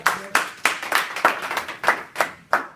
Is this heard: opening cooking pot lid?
no